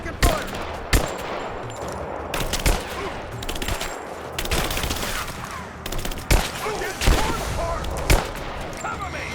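Gunfire in the video game Rise of the Tomb Raider, sharp loud shots cracking every second or two over a continuous battle din, with voices shouting under the shooting.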